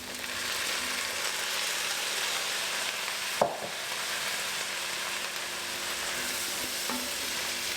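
Aubergine hissing and sizzling steadily as it fries in a pan for a pork shoulder and ratatouille dish, with a sharp clatter of stirring near the middle and a softer knock toward the end.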